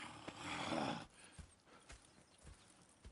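Horses in Red Dead Redemption shift and step, a loud rustling burst followed by soft, scattered hoof clops, faint and close with no speech.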